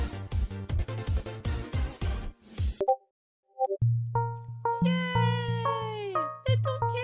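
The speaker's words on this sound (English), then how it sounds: "Little kitty dancing!" A small cat gives several drawn-out, rising and falling meows near the listener, following a burst of rhythmic clattering beats and a short silence.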